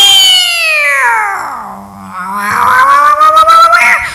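A performer at a school youth festival mimicry contest imitates two cats fighting, voicing long wailing yowls that slide down in pitch, then rising snarling caterwauls, loud and close.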